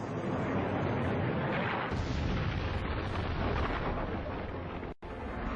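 A massive explosion from a celestial body striking Earth, a deep continuous roar with dense low rumble sustained throughout, loud and enveloping with a brief dip near the end.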